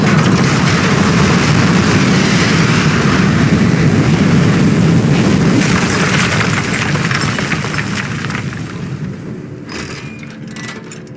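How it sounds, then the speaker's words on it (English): Rocket liftoff in the video game Aperture Desk Job, a loud, dense rumbling roar that holds steady and then slowly fades toward the end, with no talking. "3, 2, 1. We have liftoff."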